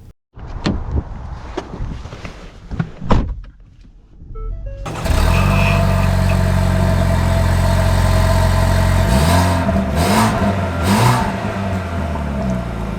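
A 2024 Ford Escape ST-Line starting up after some cabin shuffling and clicks, then settling into a steady, loud engine hum heard from inside the car, with slight rises in revs toward the end.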